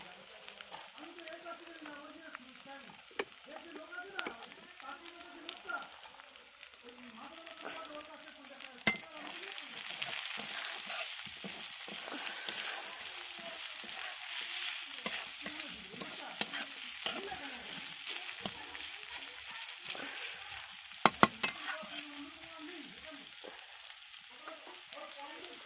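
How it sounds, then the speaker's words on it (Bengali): Chopped onion hits garlic already frying in a pan for a cauliflower chicken dish, giving a steady close sizzle broken by repeated scraping stirs, and a voice talks intermittently over it. "এবার আমি পেঁয়াজ কুচিটা দিয়ে দিচ্ছি। রসুনটা ভাজা ভাজা হয়ে এসছে হালকা"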